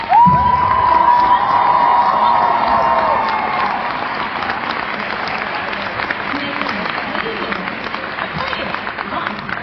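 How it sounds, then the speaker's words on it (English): A large crowd at the 2024 PAX cosplay championship applauds and cheers loudly for the costume contest entrants, with whoops over the dense clapping that carries on for nearly ten seconds and eases slightly after a few seconds. "Can we give one last round of applause for all of our entrants in the PAX?"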